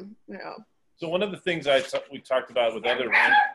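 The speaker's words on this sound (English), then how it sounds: "that's my dog. He's a yapper." A small dog yaps a few times in short bursts in the background, partly under a man's ongoing speech, with sharp barks standing out near the end.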